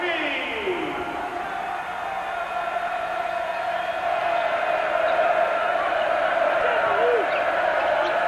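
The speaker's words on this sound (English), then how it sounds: "Now the crowd's turning up the volume." Arena crowd at a college basketball game, Tennessee at Texas A&M, swelling into a loud sustained roar with whoops, rising through the stretch while a commentator's voice runs over it.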